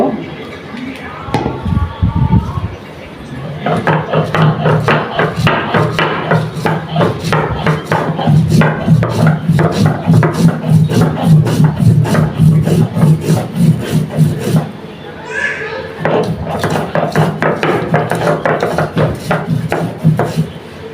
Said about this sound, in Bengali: এখন আমি শুটকিগুলি বেটে নিব।